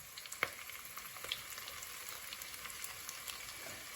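Sliced onion sizzles in hot oil with curry leaves in a pan while a karimeen (pearl spot fish) molly is being made; a soft, steady frying hiss with a few faint crackles and no talking.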